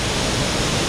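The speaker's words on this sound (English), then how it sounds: "All these waterfalls are along our ride." Waterfall in a deep Oregon ravine, a dense, loud, unbroken roar of falling water heard up close.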